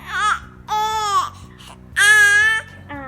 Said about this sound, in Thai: โอ้เริ่มงอแงแล้วค่ะ